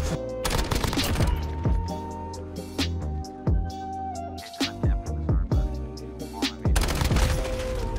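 Rapid bursts of gunfire fill a Call of Duty: Modern Warfare multiplayer gunfight, loud and close. Sharp shots and booming impacts come in clustered volleys with brief gaps between them.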